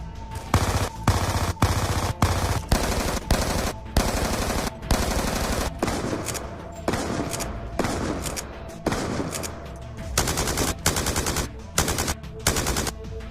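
Submachine guns fire in Call of Duty Black Ops 2 in repeated short, loud bursts of rapid automatic shots, each burst cut off sharply before the next begins.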